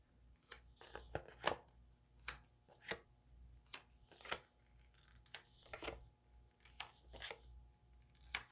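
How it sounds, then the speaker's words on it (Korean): Tarot cards spread out on a table, giving a series of soft, papery slaps and flicks at an irregular rhythm, close and fairly quiet with no talking. "카드 펼쳐 보겠습니다"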